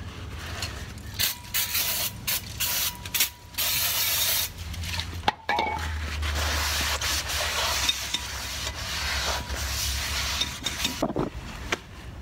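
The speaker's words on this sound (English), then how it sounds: "I'm going to clean it up with some brake clean because it did have a little bit of gear oil on it" Brake cleaner sprays onto the rear brake rotor of a Jeep Grand Cherokee WK in a garage, a loud sustained hiss broken up by nearby clicks and mechanical clatter, with no voices.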